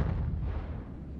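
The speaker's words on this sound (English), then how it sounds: "Then one night, I woke up to the sound of an explosion." A deep, booming explosion from an audio drama, set at night and seeming to come from a basement, loud and sustained with a low rumble that slowly fades over about a second.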